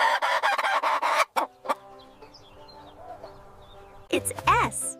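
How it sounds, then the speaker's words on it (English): A rooster on a farm crows loudly, its rising and falling call arriving near the end after a stretch of clucking fowl and quieter farmyard sounds. "Look at it crow."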